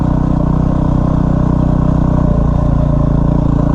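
Yamaha WR250R motorcycle ridden slowly off-road on its first dirt outing, a steady close engine drone with light clatter running unbroken throughout.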